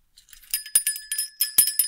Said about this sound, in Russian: Здесь колокольчики, они металлические.